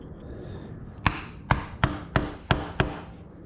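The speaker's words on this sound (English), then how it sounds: "to undo this lock washer here, I'm just gonna use a good old flathead and a hammer and just push it away" Six sharp metallic taps of a hammer striking a flathead screwdriver against a lock washer on a Triumph Tiger 1050 motorcycle, evenly spaced about a third of a second apart, close and crisp over quiet background.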